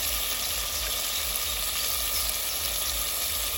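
Tamarind juice poured into a pan of frying Killalu fish curry sets off a constant, dense sizzle and bubbling hiss that holds steady and close throughout.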